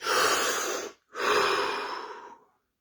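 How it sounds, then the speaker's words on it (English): Two long, deep breaths, each a close, airy rush about a second long, with a short silent pause between them during a guided relaxation exercise. "Deep breath."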